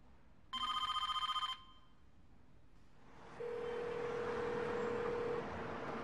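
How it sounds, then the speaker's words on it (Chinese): A telephone in a luxury apartment bedroom rings once in a single bright, trilling burst of about a second and is left unanswered, followed by a steady low hum and background noise. "不理会电话声响"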